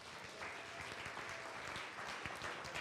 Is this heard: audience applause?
yes